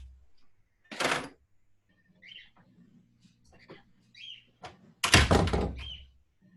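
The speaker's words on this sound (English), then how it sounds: "move around and close the door" A door is moved and shut with two loud thuds, one early and a heavier slam later, amid quiet shuffling and faint birdsong chirps in a quiet room.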